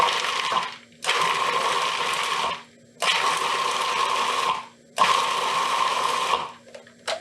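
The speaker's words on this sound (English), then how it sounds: "We're going to pop this on. Give it a few pulses to get it started." A food processor pulses basil pesto with lemon juice in three long whirring bursts, each about two seconds with short pauses between, loud and close with no talking.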